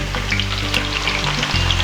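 Sliced onions frying in already hot oil for crispy biryani topping, a dense steady sizzle and bubbling throughout, fairly loud with no talking.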